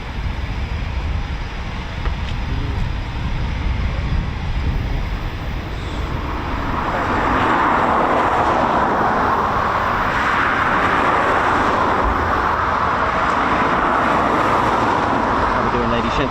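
Eurofighter Typhoon FGR4 jets depart from an RAF station, a broad roar swelling from a distant rumble into a sustained loud blast that holds to the end.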